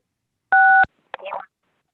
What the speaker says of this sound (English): I'm hearing some button pushes.